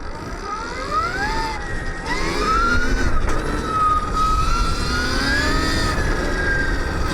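Electric whine of a Stark Varg EX 80 horsepower electric motorcycle being ridden, a steady close tone rising and falling in pitch with throttle over continuous wind and tire noise, no talking.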